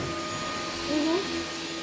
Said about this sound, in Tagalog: Vacuum mo mabuti